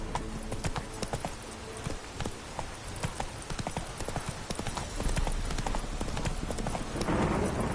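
Roach, a horse in The Witcher 3, clip-clops along at a slow, even walk, the hooves close and distinct over a light ambient bed. A brief rustling swell comes near the end.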